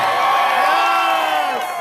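A large crowd at an Andrew Yang political rally in Las Vegas cheers and whoops loudly and steadily, with shouting voices blending into a sustained roar.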